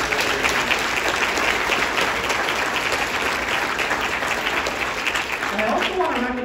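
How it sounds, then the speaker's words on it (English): Sustained applause from a large audience at a city state-of-the-address event, dense and steady throughout, with some cheering and a voice emerging near the end. "Let's give the DGBA a huge round of applause."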